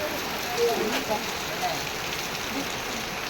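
Steady rain falls outdoors beside the beach at Digha, a soft, even hiss of drops spread across the whole moment, fairly faint and continuous with no voices.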